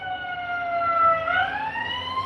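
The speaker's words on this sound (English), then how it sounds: "I hope you don't mind the siren going on out there." Emergency siren wailing outside a window, a steady rising and falling electronic tone at moderate distance, heard alone without talk.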